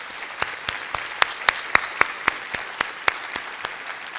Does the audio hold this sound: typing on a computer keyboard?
no